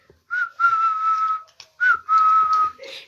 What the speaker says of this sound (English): A loud whistling noise made them both jump.